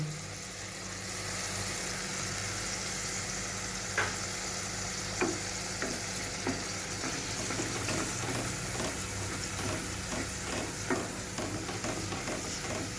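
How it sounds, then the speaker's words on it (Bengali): Cauliflower frying over a low flame sizzles quietly and steadily as beaten sour yogurt is stirred into it, with a spoon scraping and tapping against the pan at irregular intervals. "ভালো করে টক দইটাকে একটুখানি এর মধ্যে মিশিয়ে নেবো"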